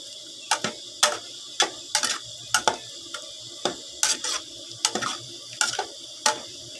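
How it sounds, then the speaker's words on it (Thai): A spoon stirs home-style pork curry with pickled bamboo shoots in a pot, giving a steady run of sharp clinks and scrapes every half second or so, close and fairly crisp, with no talking. "คนคน แกงหน่อไม้ดองใส่มือติดมันหน่อยๆ"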